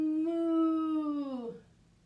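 A person imitates a cow's moo during a yoga exhale, a single long, steady, resonant lowing tone that bends downward and fades out at the end.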